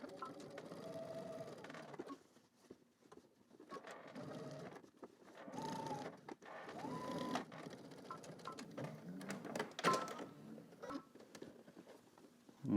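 A sewing machine stitches a polo shirt lining in quick rattling bursts that stop and start, fairly close and quiet, with short pauses between runs.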